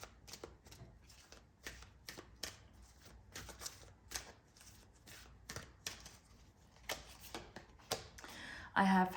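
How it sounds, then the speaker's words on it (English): Soul journey tarot cards being shuffled by hand, a quiet series of quick riffling flutters and soft slaps in an irregular rhythm, close and intimate, ending in a brief louder rustle. "I'm going to go ahead and pull some soul journey cards"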